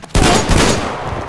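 A loud, sharp burst of gunfire from the game Metro Exodus erupts and rings out into a fading, rumbling tail, sounding like rapid shots.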